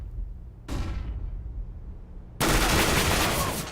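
A sustained burst of rapid automatic gunfire from a CS:GO match breaks out, preceded by a brief earlier shot with a decaying tail, loud and dense to the end.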